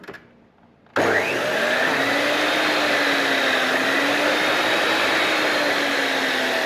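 An iron cutting machine motor switches on abruptly after a quiet moment and runs at a steady loud whine and roar, close and constant, with no talk.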